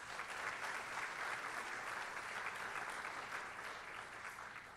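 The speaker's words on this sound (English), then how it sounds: "Please give him a big round of applause." At a Brevard County Sheriff's Office awards ceremony, a large audience gives a steady, full round of applause that holds strong throughout and tapers slightly at the end.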